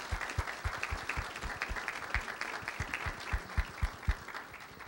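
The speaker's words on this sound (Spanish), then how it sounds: "Les pido por favor que les demos un fuerte aplauso a nuestros invitados" An audience at a disaster diplomacy forum gives a steady round of applause for the invited guests, with a dense spread of clapping from many hands and a few sharper claps standing out nearby.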